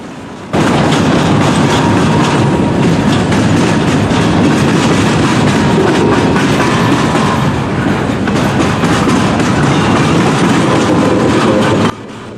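A freight train carrying steel coil cars rumbles past steadily at close range, a continuous heavy roar of wheels and rail clatter that cuts off abruptly near the end.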